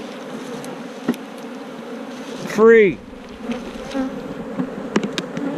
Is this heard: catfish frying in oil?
no